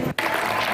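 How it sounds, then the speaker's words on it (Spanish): An audience applauds Milei inside the Teatro Colón, a brief, steady wash of clapping with a short dip partway through. "Con aplausos"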